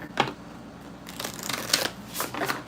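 Tarot cards being shuffled during a live reading give several quick papery riffles and flutters in short bursts, close and fairly quiet.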